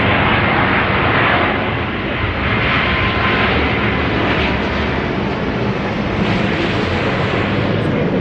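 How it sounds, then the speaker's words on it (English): An Airbus A380 airliner passes low overhead near an airport, directly under the flight path, producing a loud, steady broadband engine roar that fills all eight seconds with only slight swells and no pauses. "we live very close to the airport. Right over the flight path. So we are always blessed with A380s"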